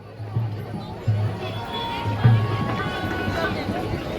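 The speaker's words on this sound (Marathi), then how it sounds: "बट खूप गर्दी आहे इकडे" A dense crowd fills the Charkop Ganesh pandal for Maghi Ganesh Chaturthi in Kandivali, Mumbai, a steady babble of many voices with a nearby voice speaking over it.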